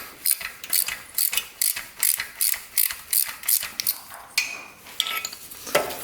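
A ratchet loosening a 10 mm bolt on a Harley-Davidson motorcycle clicks in quick, rhythmic bursts of pawl ticks, close and clear, with brief pauses between strokes and no talking.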